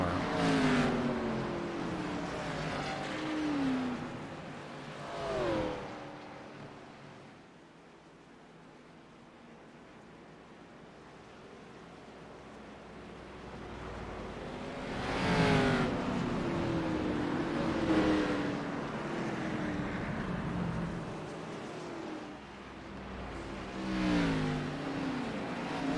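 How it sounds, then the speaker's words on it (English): NASCAR race car engines at Daytona in a video game roar past in repeated waves, rising and fading as they pass, with revving pitch sweeps and quieter stretches between passes. "Man, I love the sound of those cars."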